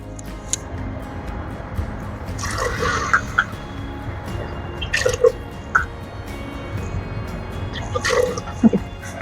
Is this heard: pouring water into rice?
yes